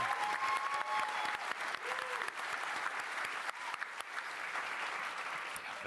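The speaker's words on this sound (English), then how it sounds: "Give yourselves a round of applause." Steady audience applause and clapping from a live show crowd fills the whole stretch, dense and continuous at an even loudness with faint voices mixed underneath.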